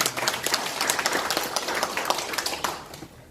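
Brief applause from attendees at a forest cooperative's annual general meeting in a meeting hall, a dense, steady patter of clapping that tapers off toward the end.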